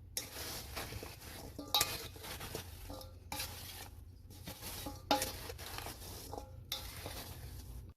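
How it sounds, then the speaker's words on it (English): A spoon stirs apple pie filling in a pot in close, repeated scraping and sloshing strokes, broken by short pauses, with light bubbling underneath. "So we're just going to stir it like this."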